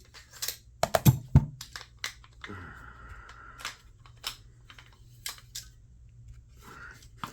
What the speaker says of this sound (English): We'll pull the bolt out and take a look at it.